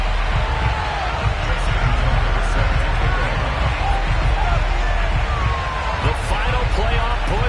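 A stadium crowd in an EA Sports NFL video game, with week 12 fans ready for a matchup against the Arizona Cardinals, roars as a steady, dense wall of cheering that stays loud and continuous throughout.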